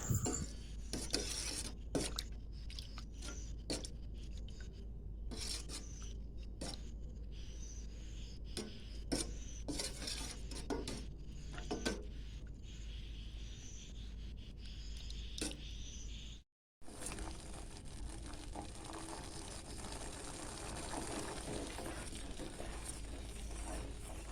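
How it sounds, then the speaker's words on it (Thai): Coconut milk simmering in a pot with butterfly pea flowers, a dense steady bubbling hiss scattered with small scraping clicks, close and fairly loud, with a brief dropout partway through. "เคี่ยวไปจนกว่ากะทิของเราจะเดือดนะคะ"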